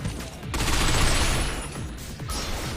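Gunfire in the third-person shooter Binary Domain, a sustained rattling fusillade with a steady roar underneath, loud and close across the short stretch, no speech.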